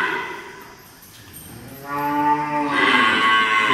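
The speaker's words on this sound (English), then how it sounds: "this is the overall view of our ghir cows" A Gir cow on a desi cow farm lets out a long, loud, drawn-out moo close by, rising into a strong second bellow over faint farm background noise.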